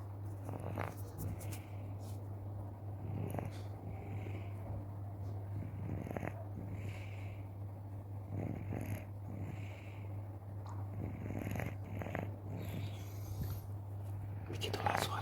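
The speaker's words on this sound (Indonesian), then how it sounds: "Begitulah suara kucing ngorok." A sleeping domestic cat purrs and snores softly in slow, steady breaths, with a low constant hum underneath and quiet murmuring voices nearby.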